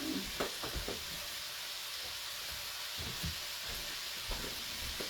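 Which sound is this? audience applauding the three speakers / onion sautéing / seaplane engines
onion sautéing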